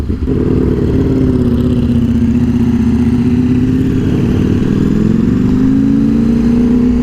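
A 2024 KTM 1390 Superduke R EVO motorcycle cruising on a highway, its engine holding a loud, steady mid-range drone with a slight pitch rise toward the end, heavy wind rumble underneath and no talk.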